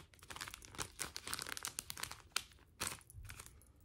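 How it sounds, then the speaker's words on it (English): Plastic packaging crinkling while rayon ribbon floss is handled for embroidery, a close, very quiet run of irregular crackles and rustles with a few sharper crunches, with no talking. "I'm really trying to minimize all the crinkling"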